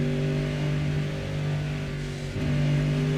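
Loud, steady low-pitched rumble from the big American V8 in the RSS MP-H Callahan racer in Assetto Corsa, holding a constant drone with a brief dip near the end before picking back up.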